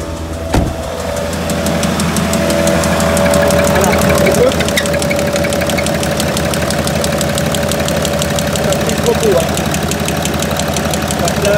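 A Citroën C5 3.0 V6 HDI 240 diesel engine with a spun connecting rod runs close by, a sharp, rhythmic knocking clatter repeating steadily over a loud idle rumble.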